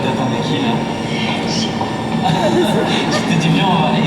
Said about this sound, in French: on va à la gare, comme ça, on va attendre pour regarder les trains passer